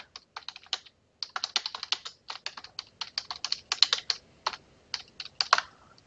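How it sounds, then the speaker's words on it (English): Close, crisp typing on a computer keyboard while writing an MLA-format paper, with uneven bursts of rapid keystrokes broken by short pauses and no one talking. "So now I might want to start typing a paper."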